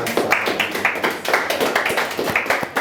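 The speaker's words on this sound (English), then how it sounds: "A round of applause with your hands." An audience claps together by hand after a talk session, a steady, fairly close run of crisp, rhythmic claps that fills the whole stretch.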